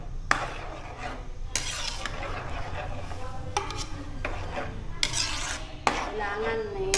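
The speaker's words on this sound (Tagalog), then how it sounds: "halo lang tayo ng halo hanggang sa mag-melt yung ating mga ingredients" A spoon stirs a sweet, creamy spaghetti sauce with condensed milk and cream in a pan, with close scraping and clinking of utensil on metal running steadily and a light sizzle underneath.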